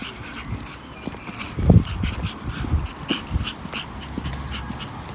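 A dog out on a walk gives a few short whimpers and barks, with loud bursts near the middle and fainter yelps after, over outdoor background noise.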